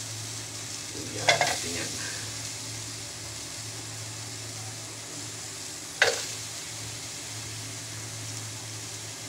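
Ginger dropped into a heated pan for crab cooked in coconut milk gives a steady soft sizzle, with two brief sharp scrapes of stirring about five seconds apart.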